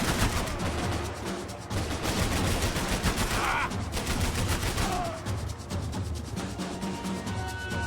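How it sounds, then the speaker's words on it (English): Sustained gunfire in a Max Payne 3 firefight, rapid overlapping automatic bursts and single shots that stay loud and close for the whole stretch with no speech over them. "I can't concentrate with bullets whizzing past my head."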